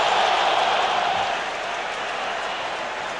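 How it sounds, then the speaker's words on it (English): A loud stadium crowd roars at an NFL wild card playoff game between the Broncos and Colts, a dense sustained wall of noise that eases slightly after the first second and a half. "With this crowd noise, because it is loud, and I hope you can hear it at home because I can hear it here."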